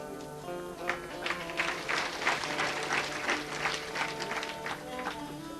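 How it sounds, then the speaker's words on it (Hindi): Audience clapping during a devotional Bhagwat Katha discourse, a moderate crowd applauding steadily for several seconds, fairly faint and distant, with a sustained musical drone underneath. "अलग ही तालियां बजी"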